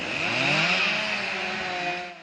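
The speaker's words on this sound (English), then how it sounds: "Chainsaws have been hard at work in preparation for filling in Radley Lake." Chainsaws cut trees beside Radley Lake, a steady close-up engine drone holding a sustained high whine throughout, with no speech.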